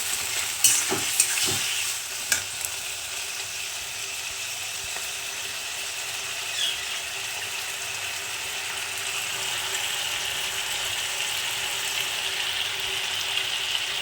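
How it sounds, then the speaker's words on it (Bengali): Radish pieces sizzle steadily in hot oil in a wok while a utensil scrapes and clanks against the pan a few times early on, then frying continues alone. "ভাজবো এক এক করে একটু নেড়ে নিতে হবে"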